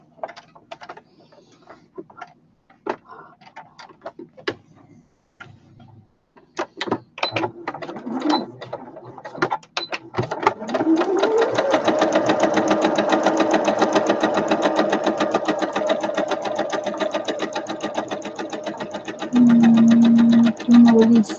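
A sewing machine restitches seams on a fabric runner. Scattered clicks and taps give way to a steady, fast mechanical whirr that runs for about ten seconds and grows louder near the end.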